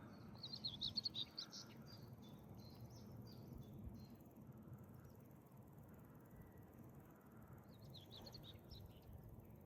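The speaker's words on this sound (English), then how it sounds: "And the crickets." Crickets on a wooded Peak District hillside give faint, high chirping in two short bursts, near the start and again near the end, over a low, steady outdoor rumble.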